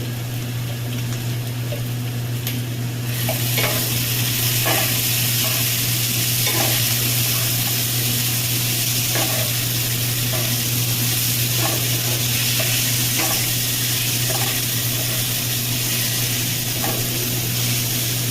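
Cumin and coriander seeds fry in a pan with a continuous, loud sizzle punctuated by scattered crackles and pops, alone and close.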